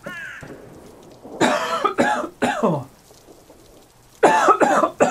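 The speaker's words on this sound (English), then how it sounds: "I think I have to cough." Several harsh, close coughs break out in uneven bursts: one loud fit, then a pause and another pair of hacking coughs near the end.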